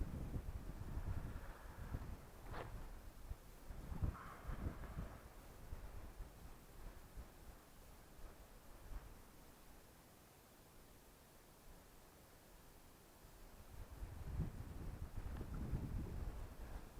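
Gusty wind buffets the microphone on a steep river bank of the Moksha while fishing, a steady low rumble that swells in the opening seconds, eases through the middle and surges again near the end.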